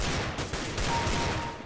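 Gunfire in the video game CS:GO during a deathmatch, a few sharp close shots in quick bursts over a dense, loud game background.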